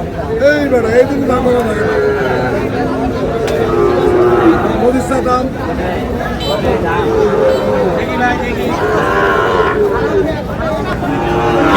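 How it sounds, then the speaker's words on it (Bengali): A Sahiwal bull lowing several times in long, deep moos, close and loud, with voices murmuring in the background at a cattle market. "শাহিওয়ালের ষাঁড়।"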